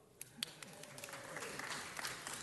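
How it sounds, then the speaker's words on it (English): Quiet applause from an audience at a city council presentation, scattered hand claps building into a soft continuous patter, distant and fairly faint. "Feel free to applaud."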